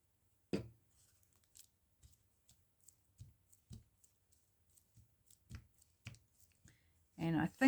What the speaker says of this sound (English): Oops, that one's a bit long, that thread. Let's just trim it off.